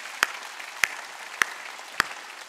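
A church congregation at a Korean Wednesday worship service claps in unison, four sharp, evenly paced claps about half a second apart over near silence.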